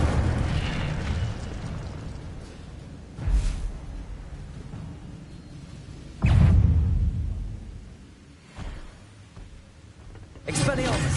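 Incendio fire spell cast in a Hogwarts wizarding video game, heavy whooshing bursts recurring every few seconds amid continuous game noise, with a voice speaking between casts.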